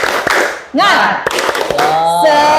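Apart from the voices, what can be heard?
children doing a rhythmic spirit clap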